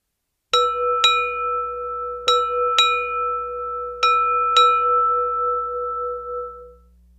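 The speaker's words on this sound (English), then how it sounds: "Time orderly, strike 6 bells." A ship's bell on a United States Navy vessel rings six bells, struck in three quick pairs, each bright metallic clang ringing on and overlapping the next, then fading out after the last pair.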